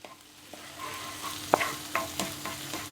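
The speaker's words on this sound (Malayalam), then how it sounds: "ഇനി ഈ എണ്ണയിലേക്ക് തന്നെ ഇതാ ഇഞ്ചി വെളുത്തുള്ളി പേസ്റ്റാണ് കുറച്ച്" Ginger-garlic paste going into hot oil for a prawn dish, with soft sizzling and a few sharp clinks and scrapes of a spoon stirring in the pan, close and steady with no talking.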